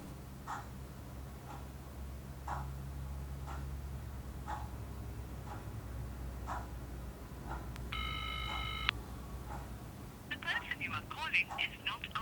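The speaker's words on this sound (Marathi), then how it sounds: "अरे हा फोन का नाही उचलत आहे माझा?" A phone call goes unanswered, its electronic ring tone repeating at regular intervals over a low background hum, with a brief tonal beep partway through and faint vocal sounds near the end.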